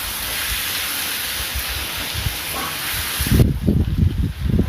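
Curry leaves sauté in a pan for pepper chicken with a steady, close sizzling hiss, then stirring thumps and scrapes in the last second.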